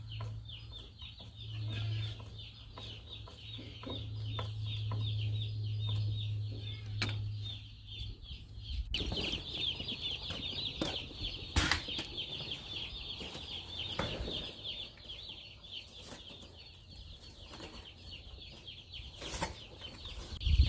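Young chicks in a four-tier brooder, soft clucks and peeps scattered over a low hum, with bursts of wing flapping and scrabbling from about nine seconds onward, close and fairly quiet.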